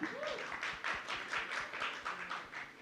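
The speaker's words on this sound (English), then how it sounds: "A big round of applause for him." An audience at a film pre-release event applauds, a dense, even patter of many hands clapping that sounds faint and somewhat distant.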